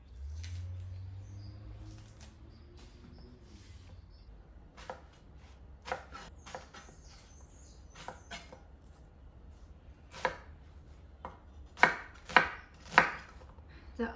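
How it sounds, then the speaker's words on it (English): A knife chops onions on a board in scattered, close, crisp strikes that come faster and louder toward the end, with a quiet murmur of background noise at the start. "So I'm just gonna chop my onions."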